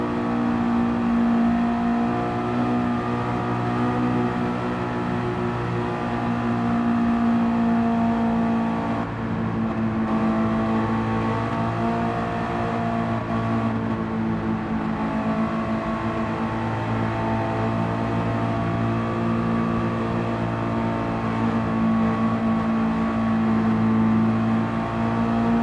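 Chevy and Mustang stock cars rolling around the Daytona oval on a pace lap in Gran Turismo 7, a steady, continuous engine drone with a strong low hum that barely changes over the whole stretch, no voices.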